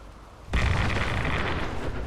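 Nuka grenade exploding in Fallout 76: a sudden loud blast half a second in, followed by a sustained rumbling roar that fills the rest of the moment.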